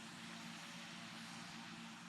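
Steady airplane engine drone from the Roblox flight game PTFS just after takeoff, a continuous even hum with a low tonal band, loud and unbroken throughout, with no talking.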